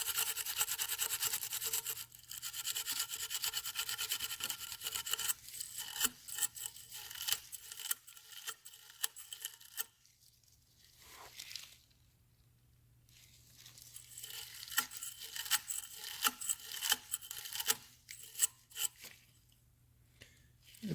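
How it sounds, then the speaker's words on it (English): A corroded electrical connector on a car horn is scrubbed from both ends, giving quick, close brushing and scraping strokes in bursts, separated by quiet pauses, with no talking. "I'm gonna try to clean it from both ends."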